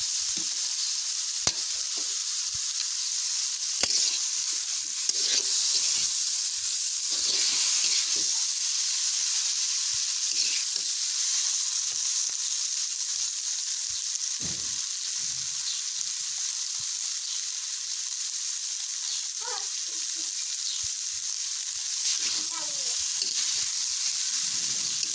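Boiled noodles stir-fried with vegetables make a long, loud, steady sizzle and hiss, broken by occasional scrapes and knocks of a spatula in the pan, with no talking.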